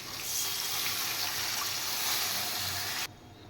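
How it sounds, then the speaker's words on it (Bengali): Water pours in a steady, close, gushing stream into a cooking pot for a thin Bengali fish curry with rohu and radish, running for about three seconds before stopping abruptly. "এবার আমি পরিমাণ মতো জল দিয়ে দেব।"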